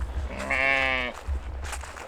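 A single sheep on a small-scale farm in northern Sweden lets out one clear, nasal bleat at moderate distance, lasting about half a second amid quiet low background rumble.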